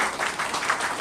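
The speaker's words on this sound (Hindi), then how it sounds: "एक जोरदार ताली" A ceremony audience at a Poddar Vaishya Mahasabha gathering in West Bengal gives a short burst of steady applause, a full, even wash of many hands clapping from the hall.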